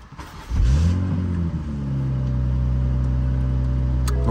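A Toyota Supra engine cranks and fires up, then settles into a loud, steady rumbling rev close to the listener, with no talking over it.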